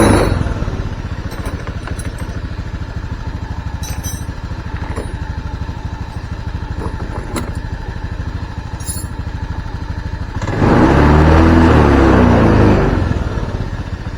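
A Honda Scoopy PGM-FI ESP scooter, fitted with a replacement K25 Beat FI ignition coil, idles close by with a steady chugging note, then the throttle opens near the end for a louder, sustained rev before easing off.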